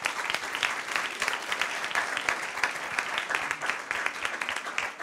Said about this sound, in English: a quick applause maybe for our panelists